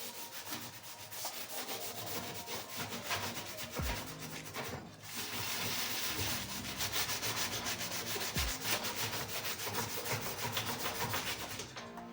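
Steady scrubbing and rubbing on the grimy surface of an old gas stove, a continuous close abrasive swish with brief pauses, no talk.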